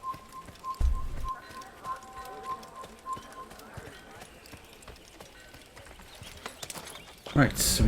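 Horse hooves clip-clop in a steady trotting rhythm as a mount approaches in the first Assassin's Creed video game, moderately loud with game ambience and someone talking over it.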